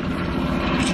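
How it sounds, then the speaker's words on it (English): A large helicopter passes overhead, heard as a brief, loud, continuous engine drone and rotor rumble that holds steady throughout, with no voices. "there's a massive helicopter going across"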